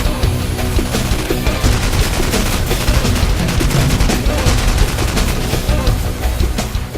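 Dense, rapid gunfire fills an indoor shooting range at a Las Vegas gun store, with firearms like those in Call of Duty 4 Modern Warfare firing loud, continuous overlapping bursts and shots throughout, with no talking.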